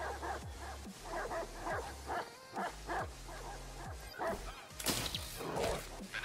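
Dog barking in the Watch Dogs 2 video game, a series of sharp repeated barks and yips with thuds and crashes from the action, fairly loud and close throughout.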